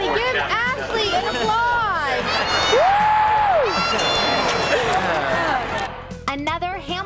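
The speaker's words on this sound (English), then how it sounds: "Everybody give Ashley an applause" A crowd at a harness racing event cheers and applauds, loud whoops and chatter blending with clapping while voices shout over the din.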